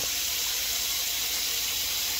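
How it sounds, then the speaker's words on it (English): Cold tap water pours steadily into a container of curing green olives, an even hissing rush of flowing water that holds constant throughout, no voices. "So we'll just fill them up with water again, cold water."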